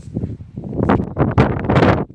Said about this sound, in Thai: ลมแรงสุดยอดเลยนะคะตรงเนี้ยนะคะ